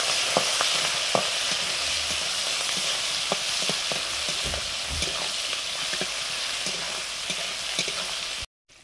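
Shrimp coated in salt and turmeric fry in mustard oil with black cumin, a loud, dense sizzle broken by scattered utensil clicks and stirring scrapes, ending abruptly.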